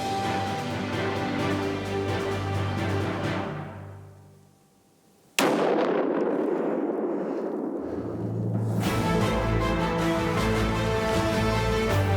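A rifle shot rings out during a Saskatchewan deer hunt, one sharp loud crack after a lull, followed by a dying echo before the steady background returns.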